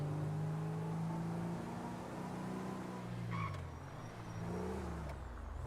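A car engine in GTA 5 hums and revs steadily as the vehicle drives through city streets looking for a parking spot, with a brief higher whir partway through; no voices.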